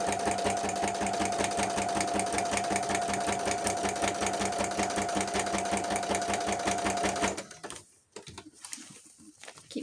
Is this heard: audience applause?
no